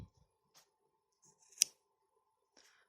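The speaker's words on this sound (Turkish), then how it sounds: "Kalınlaştığı yerden ipimi kesiyorum." Scissors snipping thick yarn, a single crisp close cut in near silence, with a couple of faint handling rustles before and after.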